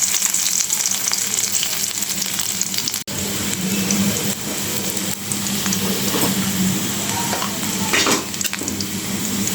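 Crushed garlic and dried red chillies fry in oil in a wok on a gas stove, a dense, steady sizzle close up with a brief clink partway through.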